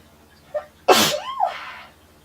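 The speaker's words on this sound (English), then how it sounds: "I'm going to sneeze in a minute." A single loud, close human sneeze with a short sharp intake before the burst, heard alone in a quiet room.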